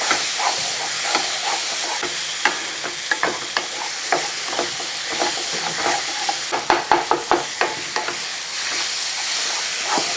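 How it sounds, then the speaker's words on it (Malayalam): Jackfruit varattu being stirred with ghee in a pan, steady close scraping and stirring strokes over a soft continuous sizzle and hiss, with a cluster of sharper clacks near the end. "ഇതിങ്ങനെ തുടർച്ചയായിട്ട് നമ്മളിങ്ങനെ ഇളക്കി കൊടുത്തുകൊണ്ടേ ഇരിക്കണം"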